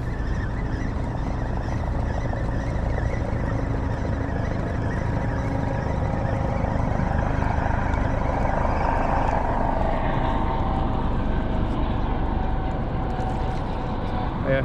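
A helicopter's steady rotor thrum and engine roar drone continuously, fairly loud, with a voice speaking over it, at a Bay Area waterfront rescue scene with ambulance, firefighters and coast guard.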